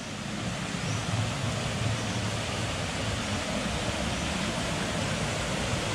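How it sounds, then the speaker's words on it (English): A waterfall on a crag walk pours in a steady, broad rushing roar that fills the whole span evenly with no breaks, heard nearby with no talk over it. "we've got a waterfall."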